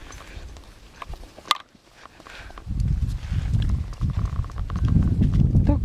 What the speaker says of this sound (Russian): еще какая-то лошадь пришла